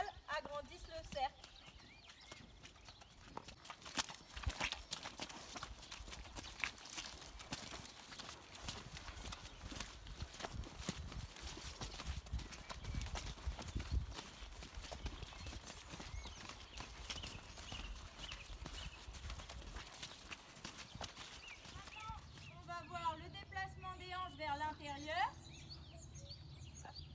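A horse walks during a French riding lesson practising hip movements at the walk, its hooves clip-clopping steadily and close under continuous instructor talk, with a brief neigh or snort near the end.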